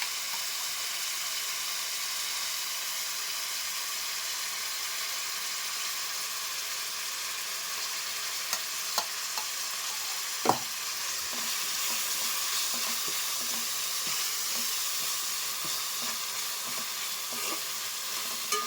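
Ginger garlic paste, onions and tomato pieces fry in a pan for chicken gravy, giving a continuous even sizzle with occasional light spoon taps and scrapes for almost twenty seconds. No talk.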